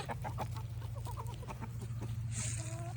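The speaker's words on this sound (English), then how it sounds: "She's a raggedy ass looking chicken." A farm hen clucks repeatedly in short, bird-like bursts over a steady low hum, fairly close and moderately loud, with some other birdsong faintly behind.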